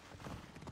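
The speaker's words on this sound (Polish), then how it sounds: "I need to take this horse either to Adonis or to the stable boy" A horse trots in Assassin's Creed Odyssey, a brief run of quick, rhythmic hoof clops up close with faint background ambience.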